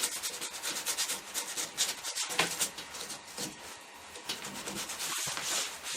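Sandpaper rubs in quick, uneven strokes over a wood spirit carved from cottonwood bark. The scratchy rasping is close and soft, and faint bird calls sound in the background.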